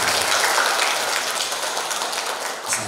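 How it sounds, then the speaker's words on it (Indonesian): A crowd applauding at an MC training event at Gontor Putri Campus 5, dense, loud, sustained clapping that holds steady for the whole stretch without a break. "Tepuk tangan untuk kita semua."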